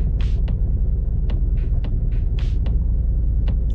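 A car engine pulling under light throttle while driving, a loud steady low rumble and drone throughout with faint intermittent clicks on top.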